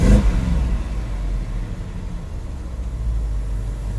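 BMW engine with VANOS variable valve timing revving as the throttle is applied, a deep low engine roar that surges at the start and then holds a steady, slightly pulsing drone, no voices.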